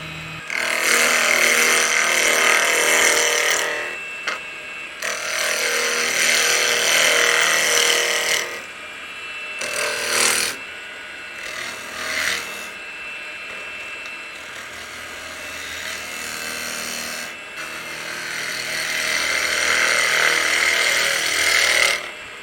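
Wood lathe turning a piece round and cutting a tenon, producing loud bursts of harsh scraping and cutting noise separated by short pauses, with the tool engaging and lifting off the wood several times and no talking.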